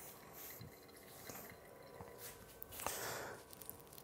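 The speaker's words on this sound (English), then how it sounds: "the flow rate now has gone from basically a constant flow to now dripping" Coffee dripping slowly through a Brewista Smart Brew Steeping Filter, faint scattered drips and soft liquid trickles, quiet and close, without talk.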